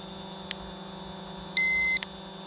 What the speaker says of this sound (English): usually it'll beep like hell.